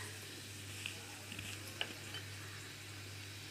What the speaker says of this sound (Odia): ଏଇ ଗରମ ତେଲରେ ଆମେ ଏମିତି ଚାମଚ ସାହାଯ୍ୟରେ ଏମିତି ତେଲରେ ଆମେ ଛାଡ଼ିବା।